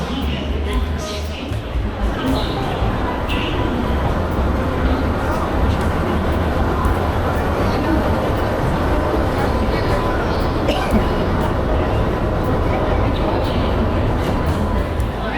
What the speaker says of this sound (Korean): 제가 탈 열차가 들어왔습니다.